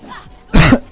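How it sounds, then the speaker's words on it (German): A single sharp cough, close and loud, bursts out after a moment of quiet room noise. "Ich muss immer husten, das ist zu dämlich."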